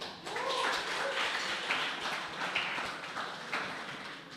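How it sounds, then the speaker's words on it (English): An open mic audience claps for a performer, a fairly faint, distant patter of scattered hands that keeps going evenly with a few sharper individual claps. "Give a huge round of applause for Shayan Qadri"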